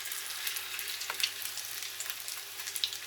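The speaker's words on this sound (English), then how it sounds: "And then we just fry them now until they're cooked through." Corned beef hash cakes frying in a pan, cooked in small batches, give off a steady close sizzle with crackling pops throughout, heard alone with no voices.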